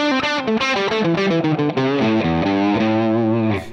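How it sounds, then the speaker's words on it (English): An electric guitar plays a quick run of notes through a distorted amp tone on a Line 6 Helix, crunchy and sustained, loud and up close with no talking. "It's not as much distortion even, but it's just a more pleasant musical distortion"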